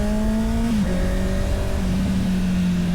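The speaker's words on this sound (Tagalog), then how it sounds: "Sarap sa tenga ng inline 4, grabe." A Honda CBR650R inline-four motorcycle engine revs loudly and steadily up close, its pitch dipping and settling as the throttle shifts, with no talk over it.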